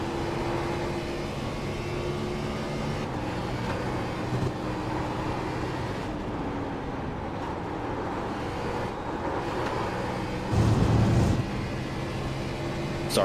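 A race car in a racing video game at Circuit de Spa runs down pit road, a steady droning engine hum with rumble and a louder surge near the end, nearly continuous and with no voices.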